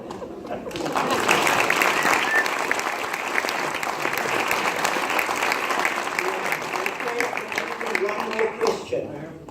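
An audience gives sustained, full applause at the end of a Pieter-Dirk Uys satirical stage show. The clapping builds quickly and stays dense and loud for several seconds before trailing off.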